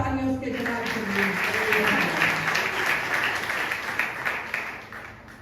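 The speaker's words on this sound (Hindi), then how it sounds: "आज जोरदार तालियां उसके जलाल के लिए।" Church congregation applauding together in a continuous wash of clapping that holds steady and then thins toward the end, with a voice audible at the start.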